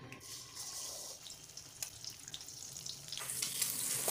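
Eggs are cracked into hot white oil in a wok and fry with a soft, steady sizzle that grows brighter and louder toward the end.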